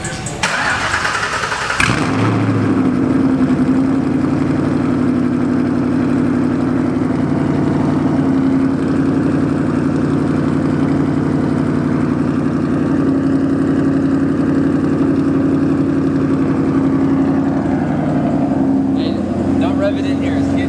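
After a moment of quiet, the engine of a cammed, nitrous-equipped Ford Mustang with straight pipes cranks and fires up, then settles into a loud, rough, lopey idle that runs on steadily, close by, with people's voices in the background.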